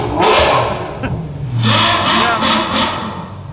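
A Ferrari F12 with an IPE exhaust starts up loud and close, then revs in several rough, rising bursts with a raspy roar.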